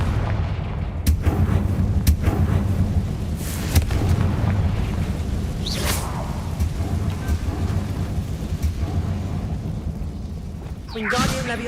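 A fire-blasting spell explodes in the Hogwarts Legacy video game on hard difficulty, a long loud rumbling boom with crackling debris that rolls on for several seconds, and a sharper burst near the end, with a voice over the game sound.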